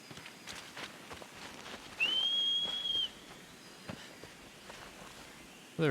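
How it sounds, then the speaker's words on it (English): Whistling rings out once in the Shadow of the Colossus video game, a steady one-second call for the horse, with faint hoof clip-clop and light background sounds around it. "So quit your whistling."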